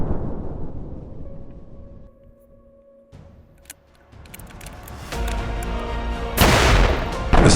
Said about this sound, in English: The second explosion had the same effect.